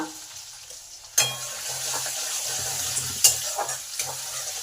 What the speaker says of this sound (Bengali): এগুলো সব ভালো করে ভেজে নেব ওই 1 মিনিটের মতো।